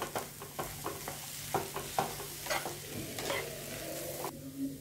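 A spoon stirs a potato and egg kochuri filling with amchur and chopped coriander in a pan, giving rhythmic scraping strokes over a faint sizzle that stop near the end.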